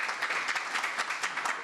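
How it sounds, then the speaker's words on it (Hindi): An audience at a poetry gathering gives steady applause, a dense patter of many hands clapping throughout, moderately loud and uninterrupted by talk. "एक बार जोरदार तालियां"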